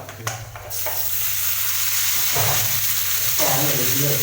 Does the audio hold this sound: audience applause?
no